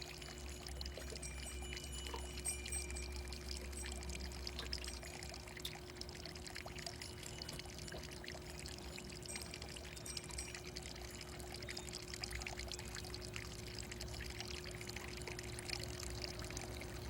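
Spring water flows steadily inside a house beside Lake Biwa in Shiga, a soft, continuous close trickle and pour that runs unbroken throughout at low level with no talk.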